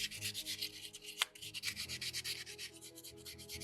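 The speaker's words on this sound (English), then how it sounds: "Use that sandpaper while it's fresh in those harder areas" Sandpaper rubbing steadily over a carved soapstone skull in quick back-and-forth strokes, close and fairly loud, with one sharp knock near the middle and no talking.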